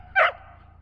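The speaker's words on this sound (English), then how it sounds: "Excuse this crazy dog." One sharp, loud bark from a hyperactive dog aboard a narrowboat moored on a snowy canal, short and close, then quiet.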